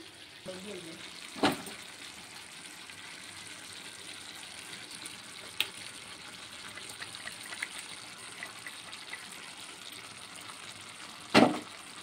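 Ground masala paste frying in a pot of chicken curry, a steady soft sizzle throughout with a couple of sharp clatters of stirring near the start and the end.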